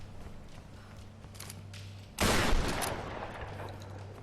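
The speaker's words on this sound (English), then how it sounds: "you want to blast that barricade" Gunfire blasting a barricade in the video game Tomb Raider: a sudden loud, close burst of shots that cuts through a low ambient hum, then a noisy rumbling tail that slowly fades.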